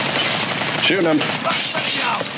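Gunfire from the multiplayer shooter Predator: Hunting Grounds, with rapid automatic bursts during a computer-defense objective, mixed with a voice speaking over the shots.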